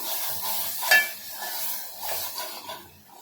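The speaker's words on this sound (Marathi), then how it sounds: "वाटण जरा चांगलं भाजून घ्यायचंय" Raw onion and coconut masala paste roasts in a pan, giving a soft, steady sizzle with light scraping stirs and a single sharp clink of a utensil.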